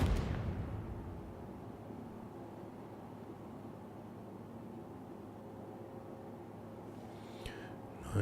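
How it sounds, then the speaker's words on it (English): In the space game Star Citizen, a firework blasts loudly right at the start, then its boom decays into a long rumbling fade with faint crackles, ending in a couple of sharp clicks; no voices. "Nice firework."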